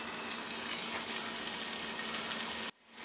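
Mint leaves sautéing in hot oil for Chennai-style chicken biryani cooked in a pressure cooker, a steady close broadband sizzle that cuts off abruptly near the end.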